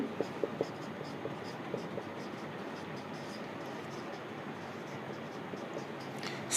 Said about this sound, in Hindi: मैं 4th क्वेश्चन लिख रहा हूं